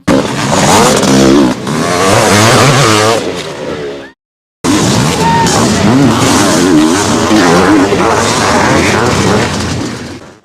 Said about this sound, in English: 40 riders on 500 machines, and it was Malin, the Brit, that led away from the start.